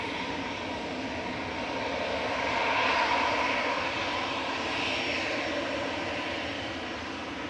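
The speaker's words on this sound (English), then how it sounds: "Next up for departure is EasyJet's GEZ-GX going over to Pisa." An EasyJet Airbus A320 departing Manchester Airport for Pisa gives a broad, steady engine roar that swells gently to a peak mid-way and then holds, with no voices over it.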